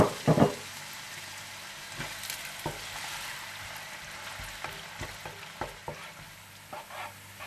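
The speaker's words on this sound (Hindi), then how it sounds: "इसमें आप डाल दें कड़ी पत्ता और प्याज डालकर गोल्डन फ्राई कर लें" Curry leaves and onion fry in hot desi ghee, a steady low sizzle broken by a loud initial crackle and scattered spoon clicks and stirring scrapes, with no voices.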